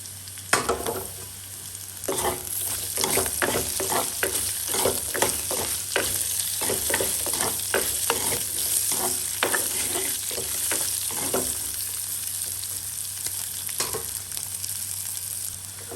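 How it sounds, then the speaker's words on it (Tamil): Potatoes being sautéed in a pan, a constant close frying sizzle with frequent rhythmic scrapes and clicks of a spatula stirring through the pieces, no speech. "உருளைக்கிழங்கையும் சேர்த்து வதக்குவோம்"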